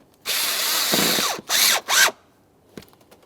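A power tool snugs up the mounting bolts on a 2011-2021 Jeep Grand Cherokee engine cooling fan assembly: one long whirring run, then two shorter bursts, loud and close, with no talk.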